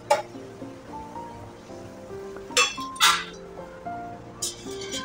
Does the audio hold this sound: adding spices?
yes